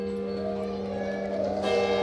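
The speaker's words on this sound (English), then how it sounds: "all the church bells in the neighbourhood sounding a welcome for the king" Church bells ring out loudly with a full, sustained metallic tone that swells and resonates continuously.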